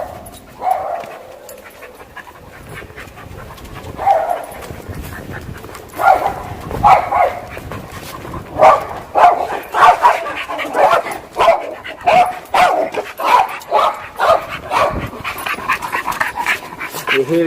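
A Springer Spaniel behind a fence barks repeatedly at mid distance, sparse yaps at first building into a steady run of sharp barks, with some talk in the background.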